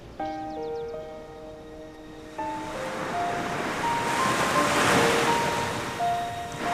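Ocean surf washes steadily onto the shore as a broad continuous rush that builds toward the middle. Wind blows across it, and sustained musical tones play over the top.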